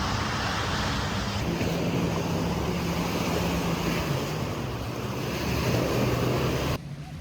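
Loud, continuous surf at Ferringhi Beach on Penang Island, a steady broadband wash of breaking waves with wind rumble and a low engine-like hum underneath, ending abruptly.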